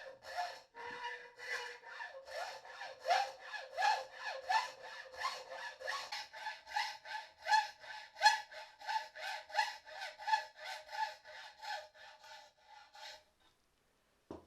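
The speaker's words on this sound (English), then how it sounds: "Hacksaw the block a fraction over size and file for a perfect sliding fit." A hacksaw and file work a small metal block for a Panther Model 100 engine, close and fairly quiet, in even back-and-forth strokes that speed up into a quick rhythmic rasping before stopping.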